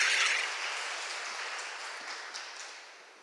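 A church congregation applauding together, a broad steady wash of clapping that begins strongest and slowly fades out over a few seconds, with no voices over it.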